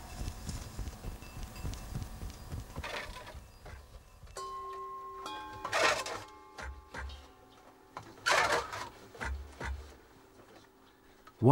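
Clacking wooden beats of a hand loom weaving a belt, irregular knocks and rattles with short pauses between bursts, close by.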